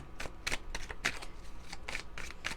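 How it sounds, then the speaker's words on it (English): Cards riffled and shuffled in quick bursts, close by, a soft papery flutter repeating several times with no talking. "I'm gonna shuffle, shuffle, shuffle"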